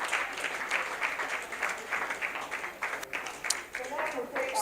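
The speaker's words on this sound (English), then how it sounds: "A round of applause for him again" An audience applauds at a live pitch event, a dense wash of many hands clapping that holds steady for several seconds.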